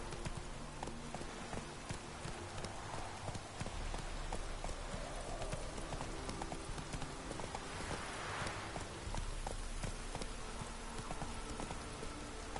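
Hooves of Geralt's horse Roach clop steadily at a trot in The Witcher game, each footfall sharp against a constant rain-like hiss, no voices.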